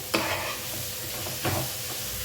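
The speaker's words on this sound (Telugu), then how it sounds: "ఇందులో ఇవి 2 వేసి బాగా కలిపేసి" Biryani masala and garam masala powder are stirred into a pan for carrot rice, giving a soft, steady sizzle with two distinct scraping strokes of a spoon, close by.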